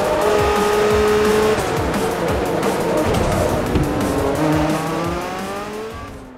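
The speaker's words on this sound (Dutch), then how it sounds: "heerlijk kan wegzakken bij het horen van een krachtige V12 motor" Racing cars in the Forza Motorsport 3 video game, with powerful engines roaring and revving alongside sustained tire squeal and skidding. The sound is loud and continuous, with shifting engine pitches as the cars pass.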